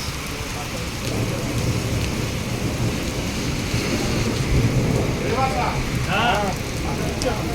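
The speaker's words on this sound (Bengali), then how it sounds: "প্রচুর বৃষ্টি হচ্ছে" Heavy rain in Riyadh roars steadily, with a low rumble underneath. Faint voices come through briefly near the end.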